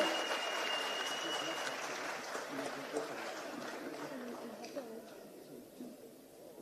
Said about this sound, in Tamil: மீண்டும் ஒரு முறை ஒரு பெரிய கைத்தட்டல் வந்து கொடுத்துடலாம்